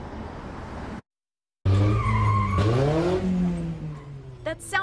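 A red pickup truck's tires squeal into a long skid just before it crashes into a bus shelter on Michigan Avenue. The loud screech follows a brief gap of silence, and the pitch bends and wavers under engine noise and distant voices.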